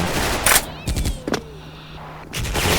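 Gunfire in the Special Force video game, a few sharp separate shots spread across a couple of seconds over a low background hum.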